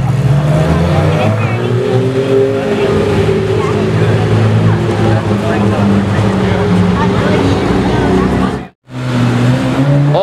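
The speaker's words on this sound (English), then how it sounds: "Oh my god, it's the Ryft exhaust, SVJ. Ryft exhaust, SVJ is pulling in." A Lamborghini Aventador SVJ with a Ryft straight-piped exhaust rumbles and revs loudly close by, its engine note rising and falling in strong sustained tones, cutting out abruptly for a moment near the end before resuming, with onlookers talking over it.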